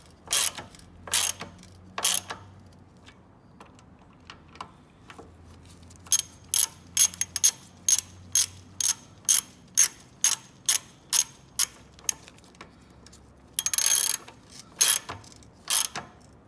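A ratchet wrench bolts down a front control arm part on a BMW E46 M3, giving short bursts of crisp clicking: a few pulls, then a long regular run of strokes, then a faster flurry, close and clear.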